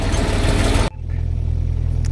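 Tractor engine on a farm during manure hauling, a loud rough rumble that cuts abruptly, then settles into a steady pulsing low idle close by.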